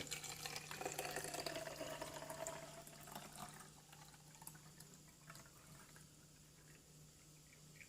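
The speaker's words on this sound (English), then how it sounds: "just pour in regular tap water" Tap water pouring steadily into a bottle, a continuous splashing rush that softens and thins as the bottle fills, with no voices.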